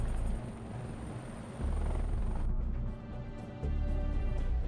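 A Chinook helicopter in a video game gives off a continuous rotor drone that swells and dips in loudness, with no voices over it.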